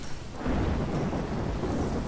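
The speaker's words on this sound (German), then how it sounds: "Wieder dieser Sturm." A thunderstorm in the game Life is Strange, with dense steady rain and a deep rolling rumble that builds after the first half second and stays loud, no voices.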